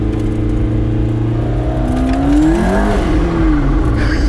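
A turbocharged mid-engine supercar accelerates hard, its engine note climbing steadily in pitch and loudness from inside the cabin, loud and continuous with no sound dampening.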